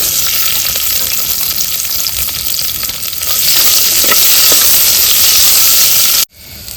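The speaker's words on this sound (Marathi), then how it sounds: "आता आपण मटण सुकं करूया त्यासाठी आपण तेल घालूया कांदा घालूयात" Onions dropped into hot oil in a pot over an outdoor wood fire, a loud close hissing sizzle that swells midway, then cuts off abruptly near the end.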